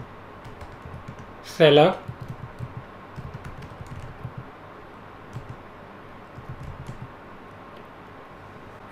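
Soft, steady keystrokes on a Mac computer keyboard as terminal commands are typed, faint close clicks running under a brief spoken word.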